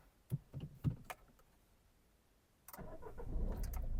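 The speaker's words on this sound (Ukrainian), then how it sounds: "Двигун запускається чудово, оберти не плавають" A Peugeot 207 engine with 220,000 km cranks and catches, settling into a steady low rumble after a few faint clicks and knocks, with no voices.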